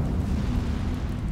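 An Incendio fire spell cast in Hogwarts Legacy, a short loud whooshing burst of roaring flame with heavy low rumble throughout.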